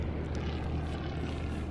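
Propeller aircraft engines drone steadily as carrier planes take off in the naval warfare game Atlantic Fleet, a continuous loud low rumble with no talk over it.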